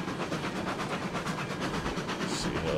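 A train rolls along the track in the RailRoads Online game, with steady rumbling wheel noise and faint rhythmic clicking that holds evenly throughout and no voices.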